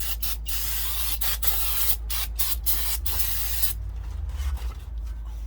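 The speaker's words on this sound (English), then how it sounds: "Hit that with brake cleaner on both sides." Brake cleaner sprayed onto the rear brake rotor of a 2013-2017 Honda Accord, a loud close hiss broken by several short stops and restarts before fading into quieter dripping and spattering.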